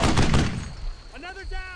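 Gunfire in the World War II shooter Brothers in Arms: Earned in Blood, a dense burst of shots up front that fades into a brief voiced call over lingering battle noise.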